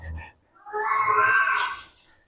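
A cat lets out one drawn-out, wavering meow of about a second and a half, loud and close, after a short low sound at the start, during an Indonesian religious talk.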